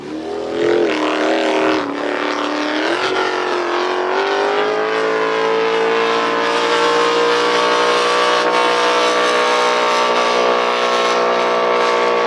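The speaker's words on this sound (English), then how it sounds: "Sounding very clean, Bisho." A blown Lite class race boat engine at Paynesville in 2014 screams past on a long straight during hot laps, a loud, sustained, harmonically rich roar holding a steady high pitch, with no voices.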